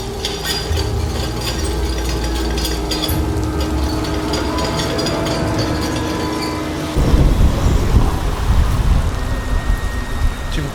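Loud thunderstorm with heavy rain, a dense steady downpour under a low rumble that surges into a harsher roaring burst of thunder partway through.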